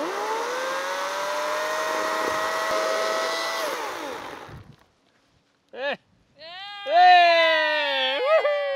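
A chainsaw cuts wood with a loud, steady whining drone that wavers slightly, then winds down and stops, followed by people talking nearby.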